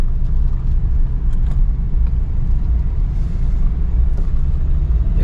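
A Mahindra Bolero climbs a steep hill in third gear on a road near Kaas plateau, Satara, with a steady low engine rumble and broadband road noise throughout, close and continuous with no speech.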